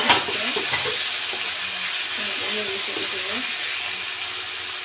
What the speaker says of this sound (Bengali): তেলটা দিয়ে আমি মাংসটা দিয়ে দেবো